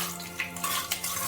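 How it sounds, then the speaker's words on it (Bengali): Mustard seeds and cumin seeds hit hot oil in a kadai over a high gas flame, a soft sizzle with a few light metallic stirring clicks, close and fairly quiet, no voices. "আমি একটু সর্ষে ফোড়ন দিয়ে দিচ্ছি"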